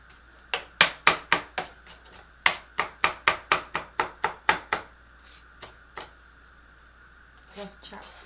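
A knife chops garlic on a board in a home kitchen, a quick run of about fifteen sharp, close taps in two bursts, then a few slower cuts and a faint shuffle.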